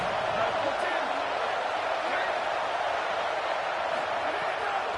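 Steady stadium crowd roar from a college football video game, CFB27, during a Michigan Wolverines dynasty game against #4 Missouri, a constant dense wash of noise running the whole time beneath a commentator's voice.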